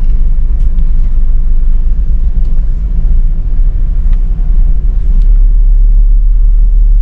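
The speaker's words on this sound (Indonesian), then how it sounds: "Nah, alhamdulillah udah jalan nih bis." A bus pulls away heard from inside, its engine giving a loud, steady low rumble with road noise that holds constant throughout.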